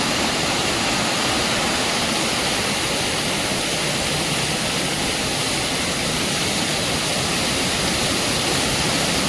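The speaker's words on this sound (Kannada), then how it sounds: "ಹೆಂಗೆ ಸುರಿತಾ ಇದೆ ನೀರು ಮೆಟ್ಲ ನೋಡಿ ಹೆಂಗೆ ಹೋಗ್ತಾಯಿದೆ" Water cascades down the stone steps of the Bhavani bathing ghat at Srisailam in a loud, unbroken roaring rush that fills the whole stretch, close and steady with no speech.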